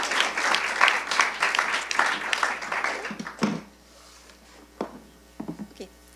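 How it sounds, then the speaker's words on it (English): Audience applause for a speaker at an awards ceremony, loud sustained clapping from a crowd that fades out after about three seconds, followed by a few scattered claps and thumps. "please give her a round of applause"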